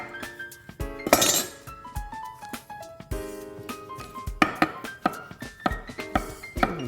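Knife strokes slicing bananas on a board for bananas foster at a flambé demonstration, sharp clinks of glass and dishes between the cuts, with faint background hum and no talking.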